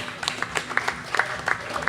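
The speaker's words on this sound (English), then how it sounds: "everybody should give themselves a round of applause" Light, scattered clapping from a small conference crowd at SXSW 2015, fairly quiet and distant, with some murmuring underneath.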